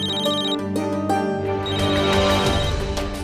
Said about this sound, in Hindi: पता नहीं इस वक्त कौन फोन कर रहा है